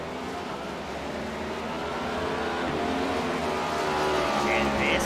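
Race cars in a Ford Cup series video game race at Sonoma roar steadily toward the finish line, engine drone building slightly louder over five seconds with a faint tire squeal near the end, under commentator talk.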